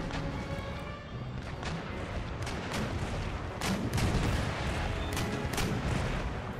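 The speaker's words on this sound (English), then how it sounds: "If we can get a good chain shot broadside into this ship" Naval cannon broadsides in Empire: Total War, a rolling series of booming shots and thuds from ships firing chain shot, dense and overlapping at mid distance.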